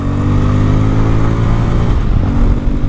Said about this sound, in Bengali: প্রথমত এটা যে সাউন্ড, পালসার সিরিজের সবগুলো বাইকের থেকে আলাদা সাউন্ডের ভিতরে একটা হালকা পাতলা স্পোর্টি ভাব আছে